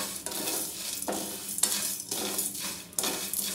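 Kuzhambu masala spices are sautéed in a pan, with a spoon scraping in repeated stirring strokes about every half second over a light, close sizzle.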